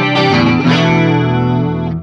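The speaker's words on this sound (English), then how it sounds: "Beautiful sounding chorus" Electric guitar played on a cleaner tone through a Wampler Terraform pedal set to chorus, a sustained shimmering chord that rings loud and close, then slowly fades out, with no talking.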